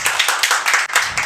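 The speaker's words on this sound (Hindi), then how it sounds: "जिसका आंसर आया उनके लिए ताली बजा लो।" Students in a classroom clap together in a quick, loud burst of several uneven claps close to the listener, with no talking over them.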